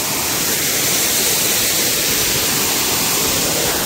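Kurdkot waterfall in Deogarh roars as a steady, loud broadband rush of falling water, continuous and unbroken with no voices.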